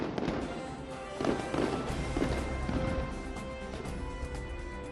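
Fireworks burst over the Golden Temple in Amritsar during a night celebration, a steady crackling roar with several louder bangs and pops layered through a dense, continuous rumble.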